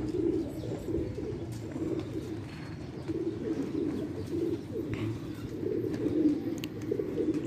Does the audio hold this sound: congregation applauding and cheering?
no